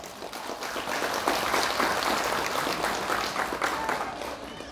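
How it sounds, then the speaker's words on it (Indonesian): A crowd at an outdoor religious gathering applauds children who have just graduated, a broad, sustained burst of many hands clapping that swells a little midway and stays steady, with faint voices mixed in. "kita berikan tepuk tangan untuk anak-anak yang barusan wisuda Pak."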